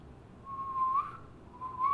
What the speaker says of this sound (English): What sound or noise do you love? Whistling.